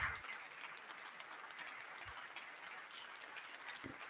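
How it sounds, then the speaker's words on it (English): Applause in Congress during a presidential speech to a joint session, heard as a faint, distant, steady wash of clapping with a couple of low thumps. "There's clapping from the left side of the aisle."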